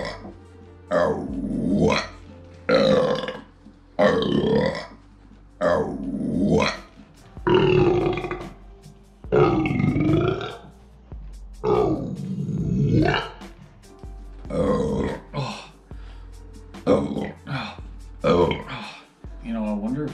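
Loud, drawn-out burps repeat one after another in a burping contest between people indoors, each belch rough and croaking, with short gaps and voices in between.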